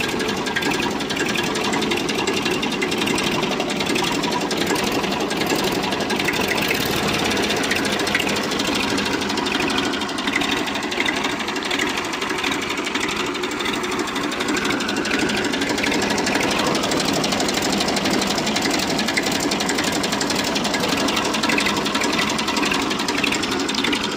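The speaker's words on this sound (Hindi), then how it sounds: "पहला आप ट्रैक्टर की आवाज़ देखें" An old Massey Ferguson 1035 tractor engine runs continuously with a rough, knocking chug, loud and close, steady throughout with no talking.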